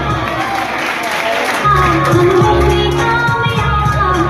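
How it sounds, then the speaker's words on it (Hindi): Students clap for a classmate at a Class 12 exam result announcement, a steady crowd applause that swells partway through, with voices and some music-like tones mixed in. "इनके लिए जोरदार ताली"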